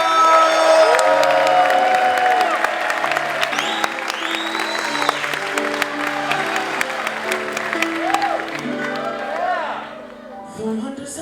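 Audience at a Broadway-style stage show on a cruise in Provincetown applauds and cheers for a performer, with loud sustained clapping, whoops and shouts, and music playing underneath that fades near the end.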